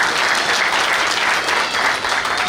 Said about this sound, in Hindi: मगर अब आपके लिए ताली बजा दो, जोरदार मेहनत की आपने।